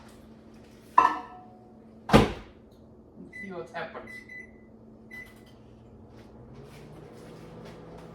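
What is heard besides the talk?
putting chocolate crosses in the microwave and running it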